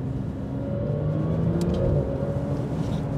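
A Porsche 992 GT3 RS, still in its break-in period, accelerating hard on a test drive, giving a loud, continuous engine drone with a steady roar throughout and no voices.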